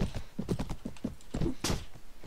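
Horse hooves clip-clopping at a gallop in a medieval video game, a rapid repeating thud pattern close up, with a brief breathy snort near the end and no talk.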